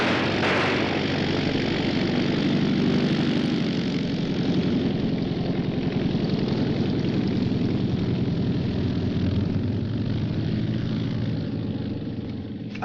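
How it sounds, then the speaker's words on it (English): A propeller-driven pickup plane comes in for a landing, its engine drone steady and loud throughout before easing slightly at the end, in a 1942 Sherlock Holmes film scene. "he's coming in for a landing. The swine. That's a pickup plane."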